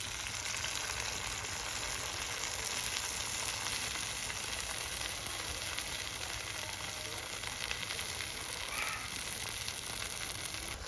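Kesraj leaves sizzling in hot coconut oil in a pan, a steady, even frying hiss that holds at a constant level throughout, close up, with no voices.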